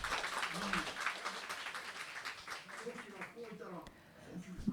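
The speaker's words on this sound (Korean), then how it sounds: "여러분들이 크게 박수하시네요" A church congregation at a Sunday worship service claps loudly, the applause rising and falling over several seconds beneath a preacher's voice speaking throughout.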